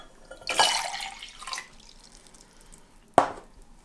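Water is poured into a mixing bowl for Albanian festive rooster pie dough, a short splashing pour early on, followed later by a single sharp drip or splash in a quiet kitchen.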